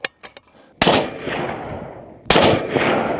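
Rifle shots are fired at a 100-yard target: two loud, close cracks about a second and a half apart, each followed by a long rolling echo, preceded by a few faint clicks.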